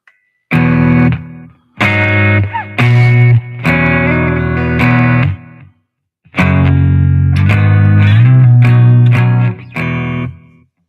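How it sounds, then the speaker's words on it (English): Electric guitar played through a Blues Driver overdrive pedal into a compressor, sounding as bursts of driven, sustained chords separated by short gaps, loud and close with no talking. "I run the Blues Driver into the compressor"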